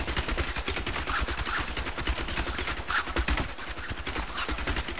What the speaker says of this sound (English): Rapid fire is my all-time favorite skill for this character.